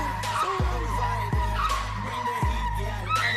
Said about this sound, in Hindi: फर्स्ट टाइम में ड्रिफ्टिंग शुरू कर दी